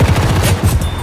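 Rapid machine-gun fire from the Type 11 MG in Battlefield V, set in a jungle, a loud, dense burst of closely spaced shots filling about a second.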